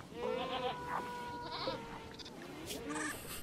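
Sheep bleating inside the video game RimWorld, a few wavering bleats at moderate loudness over a faint steady background, with no talking.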